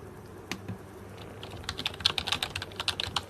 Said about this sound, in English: Here is me typing.